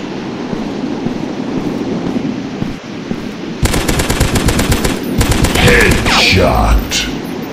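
Rapid automatic gunfire from a dinosaur hunting video game, a loud dense burst of repeated shots that starts abruptly partway through and keeps going over a steady rumbling game background.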